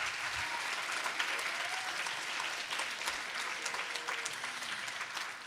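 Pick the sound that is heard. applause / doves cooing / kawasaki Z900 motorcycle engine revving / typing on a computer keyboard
applause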